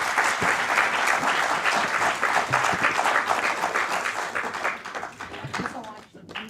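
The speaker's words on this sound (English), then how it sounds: "May we have a warm round of applause, please." Warm audience applause at an Indian arbitration conference session, sustained dense clapping with individual claps audible, gradually thinning toward the end.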